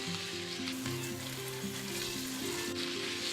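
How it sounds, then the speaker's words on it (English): Meat browns in an Instant Pot on the saute setting, giving a steady, even sizzle with light stirring noises partway through, quiet and close with no voices. "Now the meat is browning up nicely."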